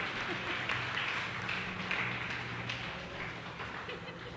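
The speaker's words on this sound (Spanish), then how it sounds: "Un aplauso al Señor" A church congregation applauds during a service, a soft, distant, steady patter of many hands with faint voices beneath.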